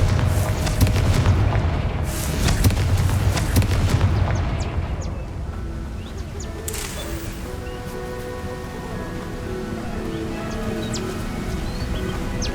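Loud booming blast from the Confringo fire spell in the Hogwarts Legacy video game, a heavy burst of rumbling impacts in the opening seconds that fades into a quieter ambient game soundscape with faint chirps.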